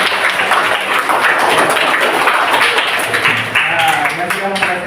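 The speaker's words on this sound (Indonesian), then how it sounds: "beri tepuk tangan untuk semuanya." A crowd claps continuously in a dense burst of applause, loud and close, with voices mingling near the end.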